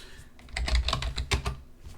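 Keys clacking on a computer keyboard while Linux commands are entered at a terminal, a quick irregular burst of close, crisp taps lasting a couple of seconds with no talking.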